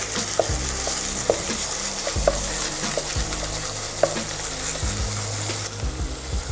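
Minced meat browning in a hot pan for a chilli bean stew, giving a steady loud sizzle and crackle with occasional scraping knocks of a utensil breaking up the lumps.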